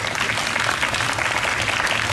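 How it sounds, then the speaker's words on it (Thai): A concert audience applauds a group of children, a dense, even wash of many hands clapping at steady volume throughout, with no voices over it. "ขอเสียงปรบมือให้น้องๆหน่อยนะคะ"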